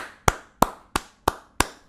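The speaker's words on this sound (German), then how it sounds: "Einmal Applaus für den Bruder." Five sharp, close hand claps from a single person, evenly spaced about a third of a second apart, each with a brief decay and little else around them.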